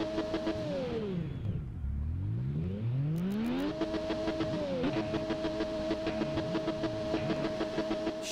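Triumph Daytona 675R three-cylinder engine in the PS4 game RIDE, revving down and then climbing sharply through the gears with a smooth whining tone, shifting briefly, then holding a steady high drone at speed.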